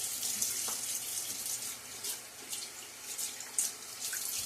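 Water runs from a faucet into a small bathroom sink, a steady close trickle with a few light splashes and drips, quiet overall, with no talking.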